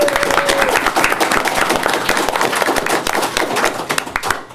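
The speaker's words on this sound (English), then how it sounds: "I think we all should give him a round of applause." Audience applause at a Jamestown city council meeting, a short burst of clapping from a modest crowd in a meeting room, dense and steady before tapering off.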